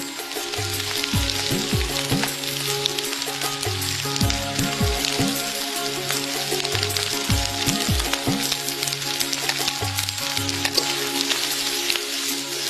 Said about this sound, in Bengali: এখন ভালো মতো নেড়ে চেড়ে কষানোর পালা